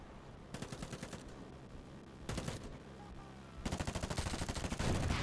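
Tank and weapon fire in the war game Fire Front, rapid rhythmic bursts of shots in repeated volleys that grow louder and denser toward the end.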